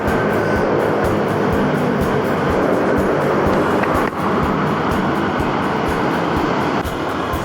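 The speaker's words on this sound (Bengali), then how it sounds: "টানেলের ভিতরে প্রচুর বাতাস আর ঘুমঘুম আওয়াজ, অনেক গাড়ি তো" Dense, steady roar of wind and traffic inside a road tunnel full of cars, a continuous loud rumble with low booming undertones and no gaps, with no voices heard.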